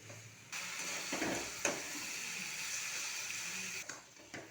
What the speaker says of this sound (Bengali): এইভাবে নাড়তে নাড়তে বাঁধাকপি থেকে সব রস শুকিয়ে যাবে